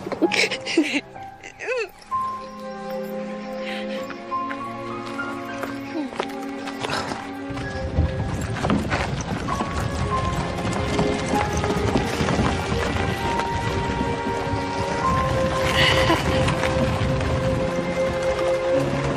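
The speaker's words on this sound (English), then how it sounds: "Lady Catherine, could we pause the carriage here?" Horse-drawn carriage in a period setting, hooves clip-clopping steadily at a trot alongside rolling wheels, with music and voices over the top for much of it.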